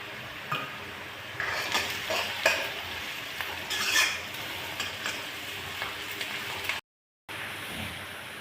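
Green chilies frying and being stirred in a pan while making spiced pumpkin sabzi, with a steady sizzle and scraping stir strokes, occasional utensil clinks, no talking.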